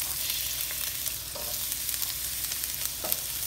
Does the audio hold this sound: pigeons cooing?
no